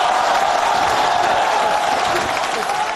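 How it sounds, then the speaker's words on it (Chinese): Studio audience at a Chinese comedy sketch breaks into steady, dense applause with some cheering, a continuous wash of clapping that stays loud for the whole stretch. "热烈鼓掌"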